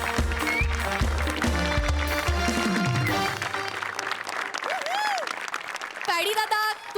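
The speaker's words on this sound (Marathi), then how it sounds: "टाळ्या" Applause for actor Paddy Kamble as he receives an award at a stage ceremony, bursts of clapping mixed with loud music and cheering, then a brief swell of synthesized tones and crowd noise toward the end.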